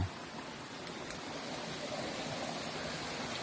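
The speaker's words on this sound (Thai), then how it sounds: "ท่านผู้ชมก็จะเห็น น้ำตกอยู่ ไกลๆ" A distant waterfall in a forest produces a steady, soft rush of falling water, an even broadband hiss with no voices.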